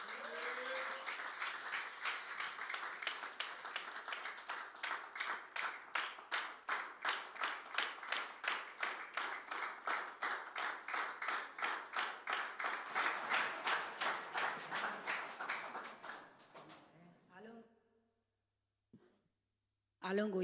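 Church congregation at a Tuesday worship service claps to welcome the preacher, a dense run of rhythmic handclaps lasting about seventeen seconds before fading out into near silence, with a few stray claps at the end.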